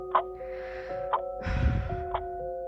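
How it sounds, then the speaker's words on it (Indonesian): A long, deep breath drawn in and slowly let out, soft and close, over a steady faint hum. "Aku menarik napas panjang."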